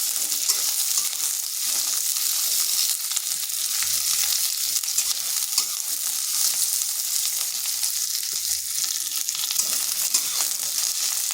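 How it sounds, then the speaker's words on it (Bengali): A medium onion, sliced, fries lightly in oil for an egg chochhori, making a continuous close hiss and crackle with faint stirring scrapes throughout and no talk. "পেঁয়াজটা হালকা ভেজে নেব যাতে তার কাঁচা গন্ধটা চলে যায়।"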